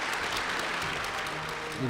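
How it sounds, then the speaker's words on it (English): Applause from an audience honoring the 2014 Hall of Heroes inductees, dense and continuous clapping filling the room, with a voice briefly rising near the end. "Give them a big round of applause"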